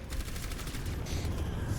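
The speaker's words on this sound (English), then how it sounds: "I'm shooting so much that I just automatically start reloading" Rapid, sustained weapon fire from Mei in the video game Overwatch, a dense continuous burst running the whole moment at steady loudness with no talk over it.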